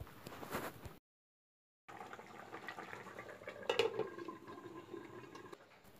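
Doi katla, a fish curry in yogurt gravy, bubbles softly in a pot, a faint continuous simmer broken by a short silent gap, with no talking.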